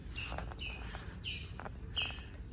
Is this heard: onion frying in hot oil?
no